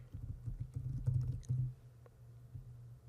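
Quiet keystrokes tapping on a computer keyboard, a short irregular burst of soft clicks that thins out toward the end, heard alone without talk.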